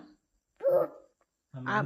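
A voice mimics a dog's bark, two short yappy calls separated by a pause, close and clear.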